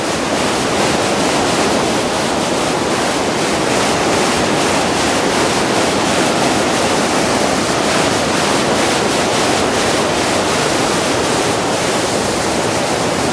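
A fast mountain river rushing near Cuesta del Tafí, its water a loud, dense, unbroken roar that sounds close and steady from start to finish with no voices.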